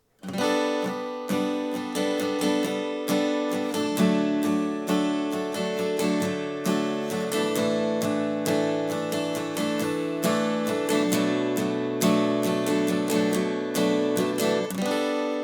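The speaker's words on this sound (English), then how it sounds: "I'm gonna add, kind of stick with that driving pattern, but I'm gonna add a few extra up strums." Acoustic guitar strummed in a steady driving pattern of down strums with extra up strums, chords ringing bright and continuous, played alone with no talk.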